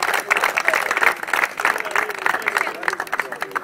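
An audience at a cricket final ceremony for the Independence Cup 2012 claps for both teams, a lively, fluttering burst of applause close by, mixed with crowd murmur.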